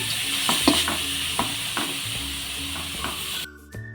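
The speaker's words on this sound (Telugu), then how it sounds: "ఈ క్యారెట్ని కూడా, తురిమిన క్యారెట్ కూడా ఇందులో వేసేస్తున్నాను. ఇప్పుడు వీటిని చక్కగా ఫ్రై చేసుకుందాము" Grated carrot fries in a pan with a steady, close sizzle, broken by repeated scraping stirs of a spatula, then cutting off abruptly near the end.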